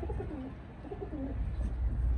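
Several semi-adult Teddy pigeons coo softly and repeatedly close by, their low throaty calls overlapping against a faint background hum.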